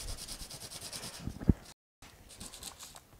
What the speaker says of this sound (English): what you want to do is you want to put scrapes into them using some sort of sandpaper